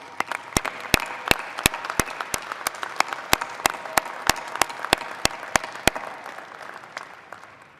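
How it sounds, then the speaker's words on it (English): Crowd applause at a 2021 Indiana Tech College of Business commencement ceremony, honoring the faculty: a steady wash of clapping with one sharp, evenly paced nearby clap cutting through for most of its length before fading. "Would you all join me in a round of applause for our outstanding faculty?"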